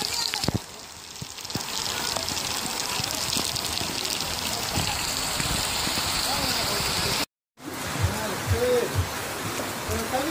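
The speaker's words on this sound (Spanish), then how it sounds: "Se vino la lluvia." Steady rain patters across a surface throughout, with voices talking intermittently over it and a brief drop-out near the end.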